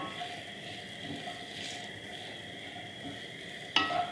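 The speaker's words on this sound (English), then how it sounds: "my onions are starting to sizzle" Onions sizzle in a pan, giving a soft, steady frying hiss that stays quiet throughout and ends with a sharp utensil clink.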